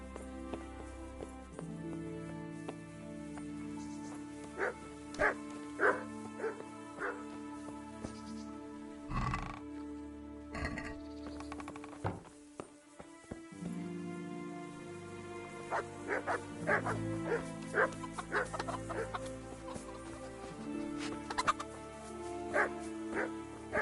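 A dog in Kingdom Come: Deliverance gives scattered barks and short yips over a sustained musical score, the sharp bursts coming in clusters near the middle and end.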